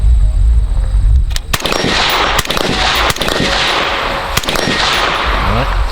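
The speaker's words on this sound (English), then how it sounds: "So now we're shooting from different positions." AR-15 rifle fired from a kneeling position at 50 yards, a series of loud, sharp reports at steady intervals, each ringing out over a constant background hiss.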